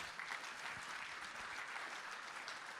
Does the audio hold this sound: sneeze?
no